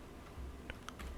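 Computer keyboard typing code on a Windows 10 PC, a few light isolated key clicks, quiet and close with no speech.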